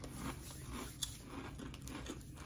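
Close, crisp crunching and chewing of paprika-flavoured Max ridged potato crisps, a steady run of small crackly bites with one sharper snap near the middle and no talking.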